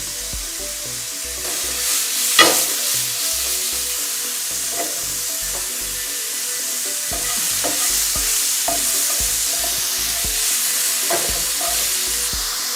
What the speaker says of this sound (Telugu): మనం టాస్ చేసుకుందాం. ఇట్లా టాస్ చేసుకున్నాక జస్ట్ ఒక 2 మినిట్స్ ఉందామండి.